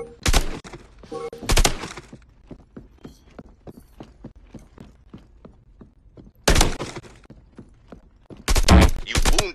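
Gunfire in the VR shooting game CQB Training Arena: loud bursts of shots at the start, middle and end, with a run of quick, sharp clicks and thuds between them.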